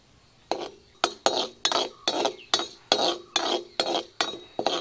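Urad dal being stirred and roasted in a pan, a spoon scraping in a steady rhythm of about ten strokes, clear and close with no talking.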